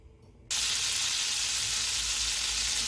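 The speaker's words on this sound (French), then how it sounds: "je mets en fait dans une poêle environ 20 g de beurre" About 20 g of butter hits a hot frying pan and breaks into a loud, steady sizzle that holds evenly to the end, near and unaccompanied by voices.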